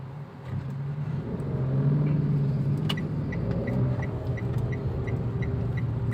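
Daihatsu Xenia 1000 fitted with a turbo, heard from inside as the engine pulls steadily through the gears, a close, sustained low rumble that builds and holds, with faint whining tones above it.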